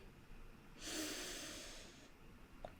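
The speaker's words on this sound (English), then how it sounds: "breathing in" A slow, audible inhale through the nose in a calm guided meditation, a single soft breath swelling and fading over about a second and a half in an otherwise quiet setting.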